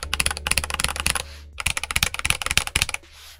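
Rapid typing on a Risophy PC404 75% keyboard fitted with Huano Red switches, a close, crisp run of keystrokes with a short pause midway before the clatter resumes.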